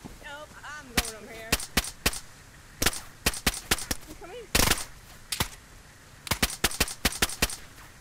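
Sharp, loud gunshots in DayZ ring out in irregular clusters of single cracks and quick bursts, with one longer blast midway, while someone talks between and over the shots.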